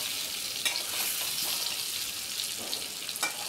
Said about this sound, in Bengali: আলুগুলোকে একটু একটু লাল লাল করে ভেজে নিচ্ছি